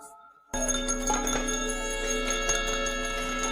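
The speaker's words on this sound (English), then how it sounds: "When the bell rings, everyone rushes to check on her." After a brief quiet start, a small bell rings out clearly and keeps shimmering with a bright, sustained metallic ring for a few seconds.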